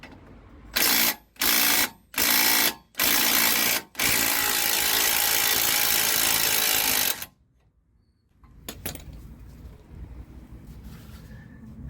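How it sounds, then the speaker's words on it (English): Impact gun loosening a front suspension strut nut on a Toyota Yaris Mk2 XP90, with four short rattling bursts followed by a long sustained hammering run, then a pause and quieter workshop noise. "an impact gun is what we needed for that"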